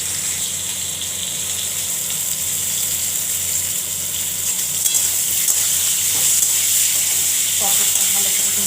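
Pointed gourd pieces frying with turmeric in a pan for a poppy-seed potol posto, a loud, continuous close sizzle with occasional scrapes and stirring knocks throughout.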